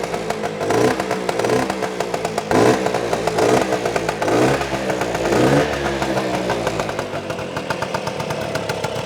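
A 1959 Lambretta LI125 scooter fitted with a CASA 185cc kit idles with the choke off, its small two-stroke engine ticking over loud and close in a steady, slightly uneven burble with faint mechanical clatter.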